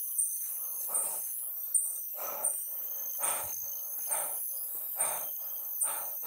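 Birds call repeatedly at night in the forest, each short burst about a second apart, over a steady high drone of insects.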